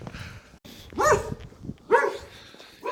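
A few loud, close dog barks come in bursts, heard while out walking along a rural path, with pauses and scuffling sounds between them.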